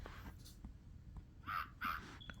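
Cartoon birds in the Talking Tom and Friends mobile app game, giving two short raspy crow-like caws near the end amid faint taps and clicks, quiet and close.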